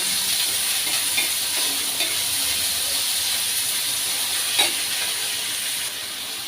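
Onion fries in oil with a continuous, even hiss and sizzle, close and fairly loud, with only a faint stir or two.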